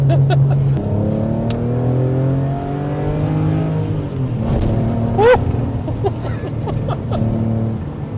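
A Porsche 911 Carrera 996 engine revs up in loud, close rising sweeps, drops back, then climbs again in a sharp burst before settling into a steady, throaty drone.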